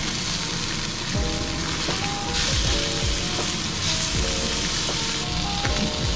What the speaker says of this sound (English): Once you get that sear, I move the heat down to medium and just let it get a nice little crust.